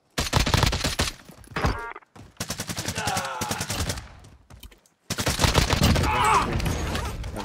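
DMR rifle gunfire in a video game: loud rapid bursts of shots in dense clusters separated by short silences, with brief voice sounds mixed in.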